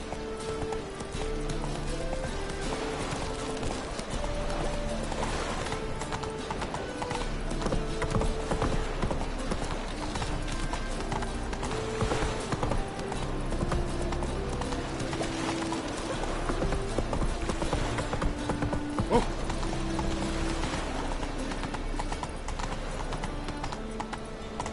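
Horse hooves clip-clop steadily during riding in the video game The Witcher III, a continuous rhythmic trot with a low game soundscape beneath it.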